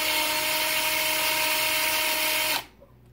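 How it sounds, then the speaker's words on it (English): A power drill whines steadily and loudly as it drills out the rivets on a Rolls-Royce Silver Cloud grille, then cuts off abruptly near the end, leaving near silence. "I'm going to take my drill and I'm just going to lightly hit that"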